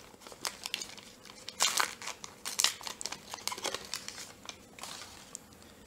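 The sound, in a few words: crinkling wrapper of a 1990-91 Upper Deck hockey card pack being opened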